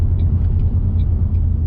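A supercharged 3V Mustang GT with a swapped 6R80 transmission drives along with a loud, steady low engine rumble. The sound is close and stays fairly constant, with no clear shift break and no voices.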